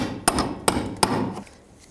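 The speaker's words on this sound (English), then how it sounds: "you can take a punch, just punch them the rest of the way in" A punch is struck three times to drive bumper push rivets into place on a 2010–2017 Chevrolet Equinox, each a sharp close metallic hit at an irregular pace, with no talk.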